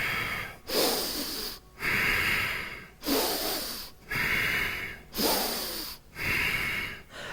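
Heavy rhythmic breathing during a power yoga workout, with forceful inhales and sharp snorting exhales repeating in a steady cycle about every second and a half, close and loud with no talking.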